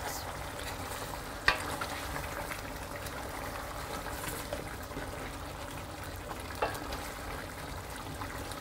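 Meat with prunes cooking in a pot, a soft continuous sizzle and bubbling with a couple of faint clinks from stirring, steady and close, no voices.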